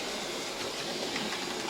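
Old Hornby Dublo 3-rail model locomotive running at low power, a steady whirring motor hum with faint rail rumble, continuous and close throughout.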